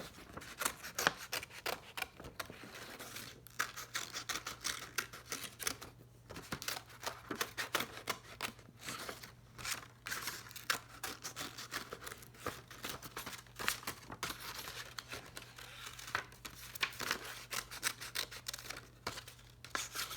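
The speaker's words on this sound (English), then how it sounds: "you can see how I take my scissors in and out to get around the flower to be able to cut it" Steady, rapid snipping of scissors through paper, close and crisp, continuing with brief pauses over a faint background hum.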